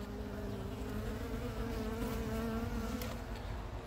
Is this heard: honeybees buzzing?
yes